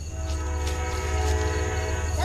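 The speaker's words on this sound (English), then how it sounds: "Is that the auto train?" A train passes at a railfanning spot with a loud sustained horn, steady rumbling rail noise and rolling cars close by, no talking.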